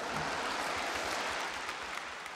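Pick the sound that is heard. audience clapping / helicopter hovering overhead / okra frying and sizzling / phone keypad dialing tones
audience clapping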